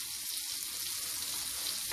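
Kotlety meat patties fry in a pan with a constant, close crackling sizzle, steady and even throughout without talk.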